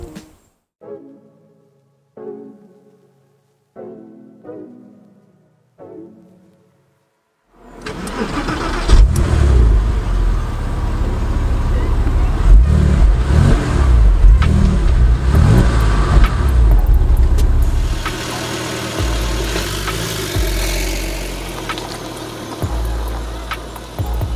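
Porsche 996 Targa on a road test, a few quiet short sounds first, then the engine fires up and runs loud and steady with a deep rumble and rising revs, with no one talking.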